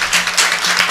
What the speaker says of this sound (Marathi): एकदा जोरदार टाळ्या वाजवा महाराज, एकदम जोरात वाजल्या पाहिजे